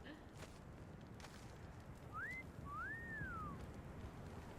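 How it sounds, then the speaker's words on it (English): A two-part wolf whistle, a quick rising note and then a longer rising-and-falling one, comes from somewhat far off in the Conan video game over quiet ambient noise. "I just heard a wolf whistle."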